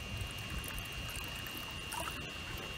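Water pours from a zooplankton sampler into an examination jar, a close, steady trickling splash lasting a few seconds.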